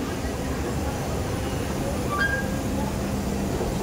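Steady rumble of a train in an underground metro station in Rome, with a brief high squeal partway through and faint voices in the background.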